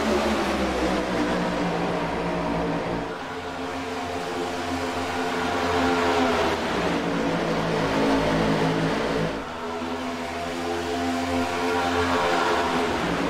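Race cars at New Atlanta in a BRR Cup event roar past in a continuous loud engine drone that dips briefly twice, several cars together, without talk.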